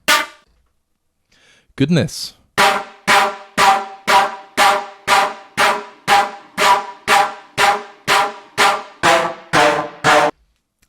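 Loop from the Albion Brunel sample library: after a brief spoken exclamation, a loud, steady train of about fifteen ringing metallic hits repeats at an even pulse, each decaying quickly before the next.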